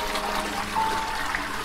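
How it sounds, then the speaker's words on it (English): Toilet flushing inside the horror video game Hellseed, a steady rush and trickle of water at moderate loudness with no talking. "Courtesy flush."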